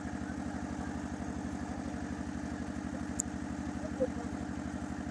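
A boat's motor drones along a village river, a steady close throbbing with an even rhythmic pulse, joined by a short tick and a faint knock near the end.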